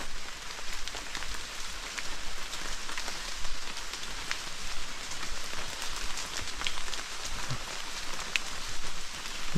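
Steady rain pattering on surfaces outdoors, a dense, even hiss of drops with a few louder individual drips standing out, no voices.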